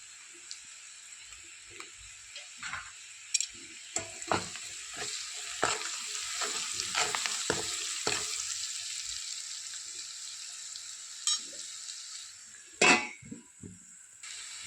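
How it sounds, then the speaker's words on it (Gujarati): Onions frying in a covered pan give a soft, steady sizzle under a lid, broken by clinks and scrapes of a spoon and pan, with a sharp metallic knock near the end. "તો થોડી વાર માટે આપણે ઢાંકણ ઢાંકી અને ડુંગળીને છડવા દઈશું।"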